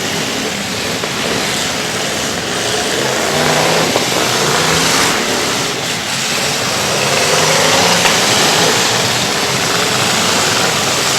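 Race car engines roar and rev continuously at a muddy dirt-track race, a loud, dense wall of engine noise that swells and dips slightly over about eleven seconds, with no talking.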